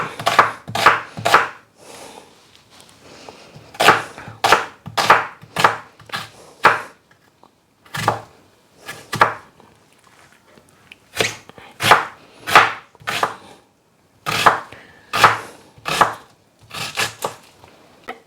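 Onion being chopped finely with a knife on a wooden board, with loud, close bursts of rapid chopping strokes separated by short pauses.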